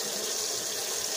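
Water streams steadily from the spigot of a Keurig K-Select coffee maker, a continuous close hiss-like flow with no pauses and no voices.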